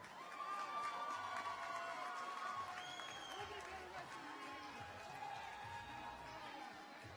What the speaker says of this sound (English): Let's get a big round of applause for Darien Orvin